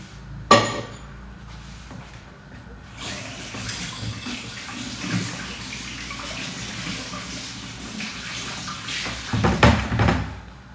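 Tap water runs steadily in a home kitchen while hands are washed after preparing Fassi-style braised meat, with a sharp clatter near the start and louder splashing and knocks near the end.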